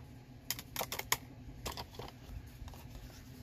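Scissors snip out a stamped paper pig shape for a card craft, giving several close, crisp cuts in small clusters over a quiet room hum.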